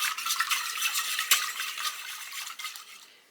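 Milk and parsley are stirred in a crock pot: steady close swishing and light spoon scraping for about three seconds, fading out at the end, with no talk.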